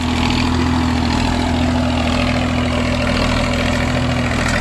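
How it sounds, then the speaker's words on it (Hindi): A John Deere 36 HP tractor pulls a Param sugarcane weeder through a cane field, its engine a loud, steady close-up drone with a constant low hum and no talk. "तो भाई जॉन डियर का 36 HP का ट्रैक्टर है।"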